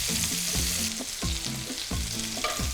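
Onions and hot dog sausage pieces frying over medium heat in a pan, a steady bright sizzle interrupted by repeated scraping stirs at a fairly even rhythm, close up with no talking.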